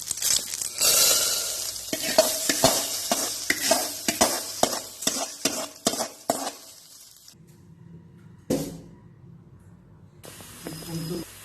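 Curry leaves and dry red chili hit hot oil as seasoning for horse gram dal, crackling and sizzling loudly with sharp spitting bursts for several seconds, then settling to a softer hiss with stirring.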